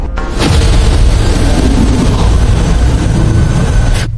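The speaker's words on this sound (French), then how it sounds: "Pourquoi la pierre a-t-elle explosé?" A stone explodes in a loud, sustained booming blast lasting several seconds, a dense rumbling roar that cuts off abruptly.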